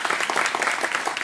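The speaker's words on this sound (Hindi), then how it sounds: "जोरदार तालियां मधुश्री जी की।" Applause from an audience at an Indian music show fills the short moment, a dense, steady clatter of many hands with no voices over it.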